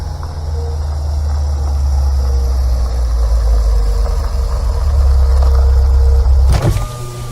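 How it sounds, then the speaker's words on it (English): A car engine idles steadily with a deep, constant low rumble for several seconds, loud and close, before a sharp mechanical clunk near the end. "Keep the engine running."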